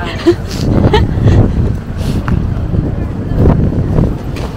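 Gusty wind buffets the microphone in loud, rumbling bursts, with voices and street sounds mixed underneath.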